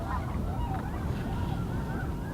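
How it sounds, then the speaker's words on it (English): Snow geese and white-fronted geese honk in a dense, overlapping chorus among tundra swans and ducks on a shallow lake, with wind noise underneath and the calls at mid distance. "The snow geese, the tundra swans, the white-fronted geese, ducks of all kinds."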